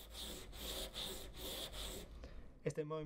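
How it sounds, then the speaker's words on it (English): A chip carving knife blade is stroked back and forth on sandpaper, giving faint rhythmic rasping rubs about twice a second, close by, before a short snort-like noise at the end. "When we make back and forward movements, at some point the knife might scratch the sandpaper."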